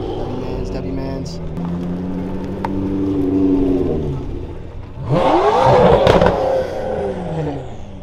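At a nighttime car meet in a park, a car engine revs hard in one rising and falling burst near the end, following a steadier engine drone underneath nearby chatter and voices.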